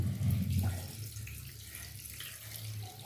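Water runs from a kitchen tap onto fish fry and prawns, giant freshwater prawns among them, a close, steady splashing stream, heaviest at the start and then flowing more softly throughout.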